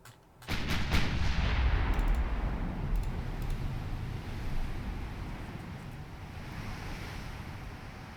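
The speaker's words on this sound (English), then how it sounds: "You may shoot at it." Naval gunfire in Ultimate Admiral Dreadnoughts: a heavy cannon blast opens, then a long rumbling roll of shots and booms over a washing sea-like wash that slowly fades, with scattered sharper cracks.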